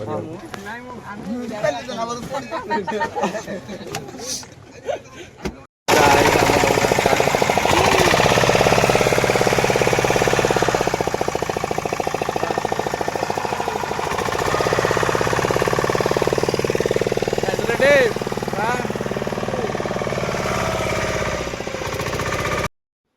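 A loud, steady boat motor drones continuously after a short spoken stretch, running with little change for most of the clip on Chilika Lake.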